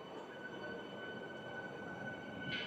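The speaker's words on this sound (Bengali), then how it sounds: "ট্রেনটি বেরিয়ে যাচ্ছে শিয়ালদা জংশনের উদ্দেশ্যে বেরিয়ে যাচ্ছে।" A Ranaghat–Sealdah AC EMU electric train pulls out of Ranaghat Junction with a faint, distant rolling rumble, a steady motor whine and a brief hiss at the end.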